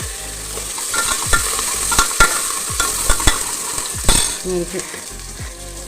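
Shallots and garlic frying in hot oil as a tempering for drumstick curry, with steady close sizzling and repeated sharp scraping knocks of a stirring spoon against the pan.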